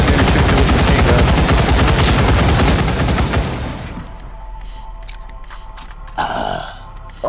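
Heavy, continuous machine gun fire in the VR zombie game Contagion VR Outbreak, a loud close roar of rapid shots for about three seconds that then cuts off, leaving quieter clatter and rustling.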